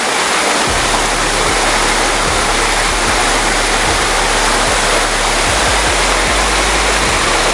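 Loud, continuous roar of a mountain waterfall cascading into a rock pool close by on the GR20 trail in Corsica, a broad unbroken rushing wash with low rumbling underneath.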